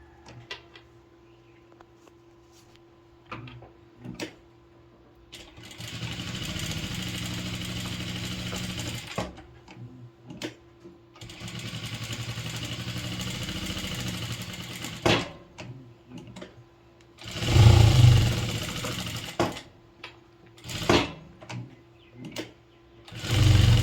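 A sewing machine stitches around fabric pieces for a lehenga latkan hanging, running in two sustained bursts of steady whirring with brief pauses and a few louder clunks and knocks near the end.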